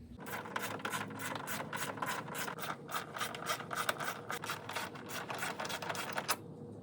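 Tool work on 10 mm bolts of a radiator cover on a 1989-1993 Chevrolet S10 makes a steady series of rapid clicks and scrapes, like a ratchet turning, close and moderately loud for several seconds.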